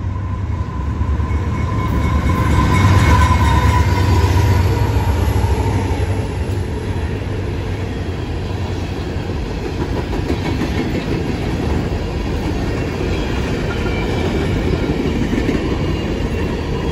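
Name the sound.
empty coal freight train passing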